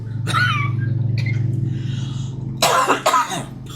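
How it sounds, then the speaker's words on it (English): Harsh coughs break out near the microphone, one early and a couple more toward the end, over a low steady hum. "This cough just needs to go away."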